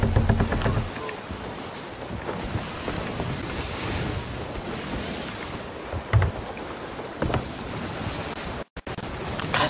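A video-game sailing ship pushes against the wind, with continuous wind noise and rushing water and waves under a steady hiss, plus a few brief thumps and a short dropout near the end.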